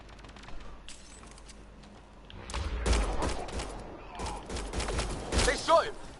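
A burst of rapid gunfire in Mass Effect Andromeda, sharp repeated shots that build into a dense volley after a quieter start, mixed with speech.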